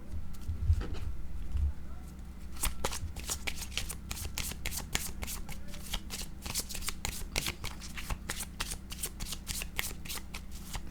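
A deck of cards, drawn for a card reading, is shuffled close up with a rapid, steady stream of crisp riffling flicks lasting throughout, with no talking.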